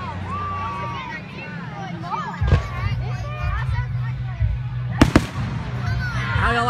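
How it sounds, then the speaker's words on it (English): Fireworks exploding outdoors at a backyard Fourth of July party, with a couple of loud sharp bangs near the middle over steady crowd chatter and children's voices, people talking throughout. "How y'all liking those fireworks?"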